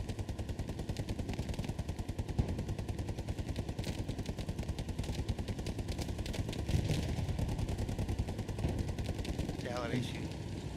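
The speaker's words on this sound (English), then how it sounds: "they're just suppressing because there's some machine gun fire coming from the other side there" Machine gun fire in the World War II shooter game Hell Let Loose, a steady rapid rattle of automatic bursts that runs without a break, with distant gunfire layered beneath.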